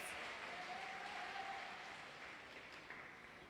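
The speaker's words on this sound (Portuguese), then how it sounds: "Aplausos para Mateus." Scattered applause from a church congregation, moderate and somewhat distant, tapering slightly toward the end with no talk over it.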